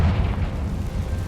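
A Confringo fire spell explodes in the Hogwarts Legacy video game, a sustained low rumbling boom with crackling debris that rolls on for over a second, fairly loud, with no talk.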